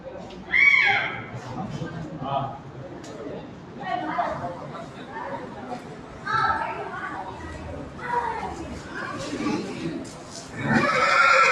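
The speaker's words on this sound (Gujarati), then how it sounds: "આ છે ઘોડાનું અસ્તબલ વાહ" Horses whinny in a stable at a temple site near Chotila, several loud neighs rising at intervals over steady crowd chatter and children's voices, with people talking throughout.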